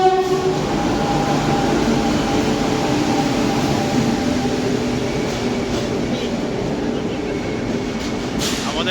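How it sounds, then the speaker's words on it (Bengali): A train pulls into New Alipurduar station, loud and close, its rumbling wheels and rail noise filling the scene while a horn sounds near the end. "আমাদের ট্রেন চলে এসেছে।"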